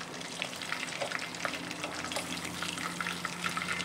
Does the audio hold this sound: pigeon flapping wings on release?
no